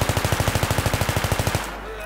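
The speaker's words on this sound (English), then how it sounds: "We're gonna go with the M16. A real man's weapon." M16 rifle fire in Battlefield 3, a rapid steady automatic burst of about fifteen evenly spaced loud shots that stops abruptly, leaving a fading echo.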